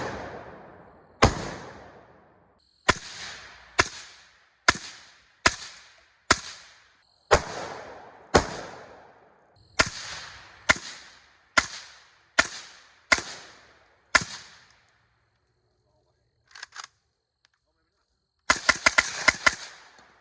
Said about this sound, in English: we're going to shoot it again on both the AK platforms to see what type of flash we get